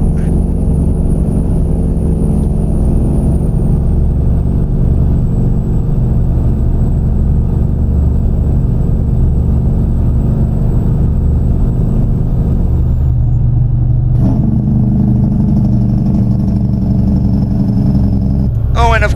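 Kenworth W900 in American Truck Simulator running a Magnitude 55L engine mod gives a loud, steady low diesel drone with harmonic rumble, shifting tone near the end, under continuous speech.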